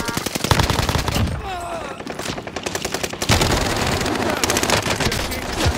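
Rapid automatic gunfire in the video game Warzone, loud close bursts with a brief lull before sustained firing resumes, a voice briefly heard alongside.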